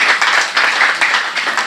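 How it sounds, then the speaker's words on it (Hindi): Audience applause at a Hindi poetry and honour ceremony, steady dense clapping from a crowd filling the whole stretch without pause, no voices over it. "एक ज़ोरदार तालियों से"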